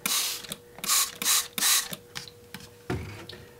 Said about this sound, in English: I do another squirt.